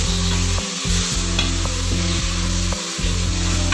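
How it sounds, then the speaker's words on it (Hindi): Marinated mutton frying in a kadai-style pan gives a loud continuous sizzle, with a low steady hum running underneath, as it is stirred with brief scraping pauses, close up and without speech. "साथ ही हम इसमें ये मैरिनेट किया हुआ गोश्त शामिल कर देंगे और इसको हल्का सा मिक्स करेंगे"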